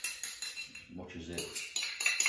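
A spoon scoops blue cheese dip out into a bowl, giving quick metallic clinks and scrapes against the dish, with a brief stretch of talk in the middle.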